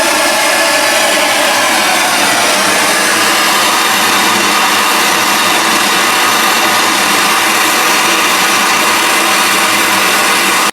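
A small MAP gas torch heats silver-bearing metalwork solder, giving a loud, close, unbroken roaring hiss that holds steady throughout.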